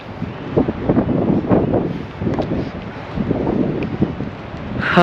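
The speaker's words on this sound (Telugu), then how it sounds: "చల్లగాలి చాలా ఇచ్చేస్తుంది" Strong, cold wind buffets the microphone near the China–Nepal border in the Himalayas of Tibet, a steady loud rumbling roar with gusty surges and no voices.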